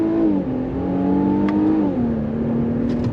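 A 2023 Infiniti Q50 Red Sport pulling in first gear from a roll under throttle, its engine holding a loud, steady drone that climbs slightly then drops as revs settle, heard from inside the car.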